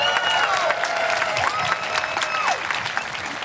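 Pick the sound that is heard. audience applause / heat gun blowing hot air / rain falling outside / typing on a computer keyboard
audience applause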